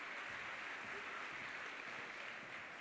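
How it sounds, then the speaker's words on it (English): A live audience at the opening ceremony of the BT Young Scientist Exhibition 2018 gives a steady, dense round of applause as presenters take the stage, continuous clapping filling the hall for several seconds. "She should swear we're at the theatre with that round of applause."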